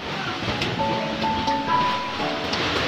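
Rain from a Category 5 super typhoon in the Philippines pours as a loud, continuous broadband rush with no breaks for its full length.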